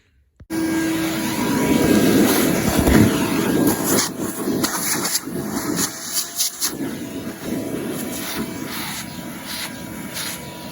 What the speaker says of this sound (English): I'm basically just gonna vacuum off this other seat over here.